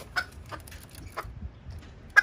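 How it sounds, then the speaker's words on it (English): Bantam roosters cluck in a few short, sharp bursts spaced irregularly, fairly faint against a quiet low background. "Brother John's been raising these bantams, these roosters"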